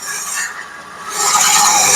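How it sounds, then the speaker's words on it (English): A drill bores slowly into hard Purple Heart hardwood, giving a steady, loud grinding rasp that swells stronger in the second half, with no voices. "Purple Heart is a very hard wood. It takes a little bit to drill."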